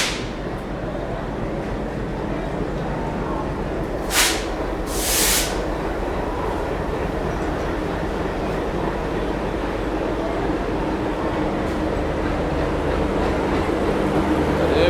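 Konark Express train running on rails between Mumbai and Hyderabad, a steady low rumble of wheels and carriages throughout, with two brief hissing bursts near the start.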